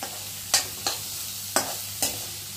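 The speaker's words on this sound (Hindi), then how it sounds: "यहाँ पर मैंने कड़ी पत्ता डाल दिया है और प्याज को हल्का हल्का भून रही हूँ" Onion and curry leaves fry in a pan of mustard oil, with a soft steady sizzle broken by four sharp scraping stirs of a spoon at an uneven pace.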